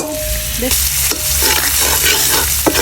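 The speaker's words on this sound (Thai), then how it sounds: "เจียวกระเทียมให้หอม ผัดกระเทียมให้เหลือง" Garlic stir-fried in a pan for stir-fried wide rice noodles with marinated pork, a loud close sizzle with scraping stirring strokes cutting in every half second or so, no talking.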